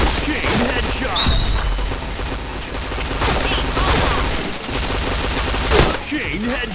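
Gunfire in the shooter game Point Blank, dense rapid bursts of shots and impacts running continuously and loud throughout, with game announcer calls and player chatter mixed in.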